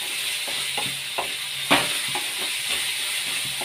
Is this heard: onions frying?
yes